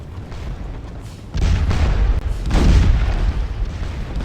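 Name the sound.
cannon firing canister shot in the video game Scourge of War Waterloo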